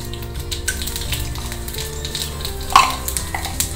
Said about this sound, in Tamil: கொஞ்சம் எண்ணெய் விட்டுருக்கேன். காயட்டம், கொஞ்சம் கடுகு